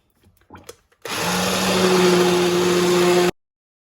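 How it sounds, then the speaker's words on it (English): Immersion blender running in a pot of soup: after a few quiet clicks and handling sounds, the motor starts abruptly with a loud, steady whirring hum that holds for about two seconds, then cuts off sharply. "gonna use an immersion blender to blend that soup up"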